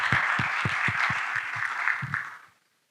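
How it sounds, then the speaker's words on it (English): Audience applause at a finance forum panel in Ethiopia: a few seconds of steady clapping from a moderate crowd, fairly even and close, fading out at the end. "Can we get a big round of applause for Enat Bank,"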